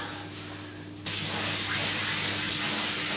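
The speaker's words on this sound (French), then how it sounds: "je vais pouvoir passer au rinçage de mon masque au henné" Running water rinses a henna mask out of curly hair, a steady hiss of spray that starts faint and then jumps louder about a second in, continuing evenly close by with no talking.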